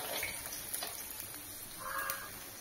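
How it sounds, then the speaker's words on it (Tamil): Chopped carrots and beans sizzle in about four spoons of hot oil while noodles are being made, giving a faint, steady crackling hiss with a few light stirring sounds. "எண்ணெய் சூடானதுக்கப்புறம் கேரட் பீன்ஸ் நம்ம நறுக்கி வச்சதை போட்டுக்கணும்"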